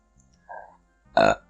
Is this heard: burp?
yes